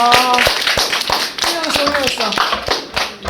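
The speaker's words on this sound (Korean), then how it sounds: "우리 팀 박수 쳐주세요." A small group at a student reading-debate competition claps briefly for a debate team. The sharp, uneven hand claps come close, mixed with overlapping voices and cheering.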